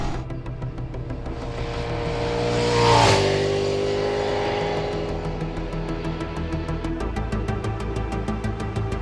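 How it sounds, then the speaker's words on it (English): A Ducati Desmosedici RR, a road-legal Grand Prix motorcycle, runs on the road with a loud, rising engine note that peaks in a strong surge and then settles into a steady, rapidly pulsing drone. "This is the Ducati Desmosedici RR, proper road legal Grand Prix bike."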